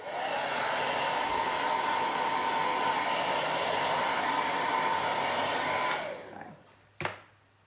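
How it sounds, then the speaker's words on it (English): A blow dryer runs steadily at close range on a reusable craft transfer, a loud continuous whoosh for about six seconds before it is switched off and winds down, followed by a single sharp knock. "It probably wouldn't hurt to hit at my blow dryer really quick, just to speed up the drying."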